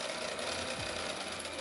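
A sewing machine runs a steady, fast stitch along a men's shirt seam at 1 cm, a continuous close mechanical whir and rattle with no speech.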